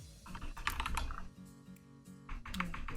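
Rapid typing on a computer keyboard, close and clear, with irregular bursts of key clicks and brief pauses between runs.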